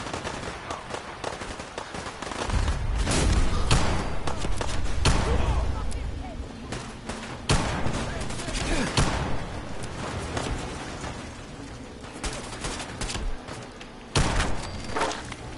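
Bolt-action rifle fire in Fallout 4, a series of loud, sharp shots spaced irregularly with heavy booming reports and a few quick clusters, while someone talks in between.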